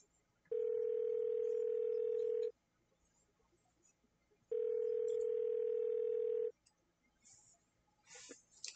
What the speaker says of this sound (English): I dial the number for emergency services.